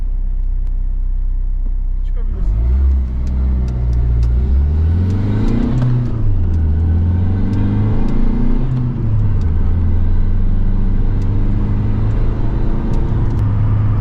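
Fiat 1.3 Multijet hatchback on a race track during a track day, its engine droning loudly and continuously as it pulls through the gears, pitch rising and dipping with each rev, heard close from inside the cabin.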